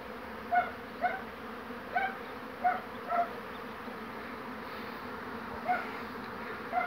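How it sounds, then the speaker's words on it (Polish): Bees fly around a hive outdoors, a steady insect buzz with several brief louder passes of bees zipping close by the microphone, no talking. "O, ile tu pszczół lata."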